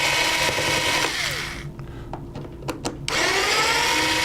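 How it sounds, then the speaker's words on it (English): A power screwdriver loosens screws in embedded bosses inside a boat pontoon. Its loud, close, continuous whir drops into a short quieter stretch with a few sharp clicks, then resumes. "then you just go and loosen all of the screws in the embedded screw bosses inside the pontoon like this."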